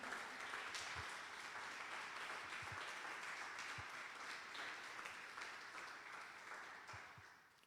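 A church congregation applauding during a service, a dense and steady wash of clapping from many hands at a moderate distance that slowly fades away toward the end.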